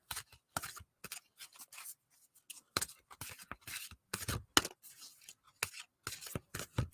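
A brand-new deck of cards is shuffled by hand in short bursts of crisp riffling and snapping, close and fairly quiet, with brief pauses between runs.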